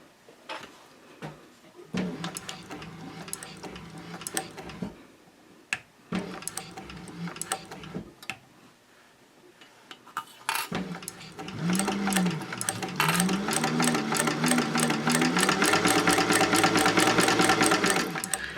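A sewing machine stitches and backstitches a seam for a fabric caddy, starting with short, halting bursts of stitching and building into a fast, continuous whirring run, close and fairly loud, with no voices.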